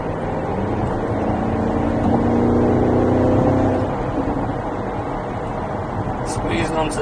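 A 2021 Porsche Cayenne GTS on the road gives a steady engine and exhaust drone that swells in the middle and then eases off as the throttle lifts, with someone talking over it.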